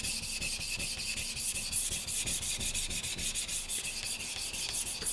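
A Japanese knife being sharpened on a Gesshin 400 grit whetstone, with rhythmic, gritty scraping strokes of steel across a coarse, muddy stone, steady and close with no talk.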